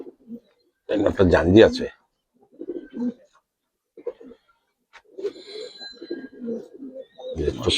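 Bagha pigeons coo in soft, scattered bursts close by while someone talks over and between the calls.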